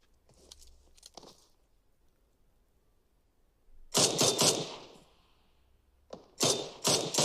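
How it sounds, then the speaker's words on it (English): SKS rifle fire in the mobile battle-royale game PUBG Mobile: sharp shots come in short clustered bursts, some faint and some loud and close, separated by near silence. "Sounds like he's using an SKS."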